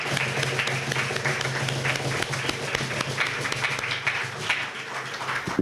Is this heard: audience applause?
yes